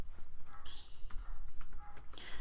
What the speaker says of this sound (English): if we want to do a tweet then, we would type that in